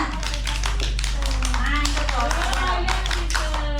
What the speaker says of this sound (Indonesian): Coba ada yang barisan sini bisa nggak tepuk 13?